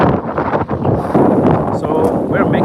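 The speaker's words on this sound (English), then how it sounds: "Oh, the wind is getting heavy." Heavy gusts buffet the microphone with loud, continuous rumbling roar outdoors beside an off-road pickup motor home, surging and easing over a few seconds.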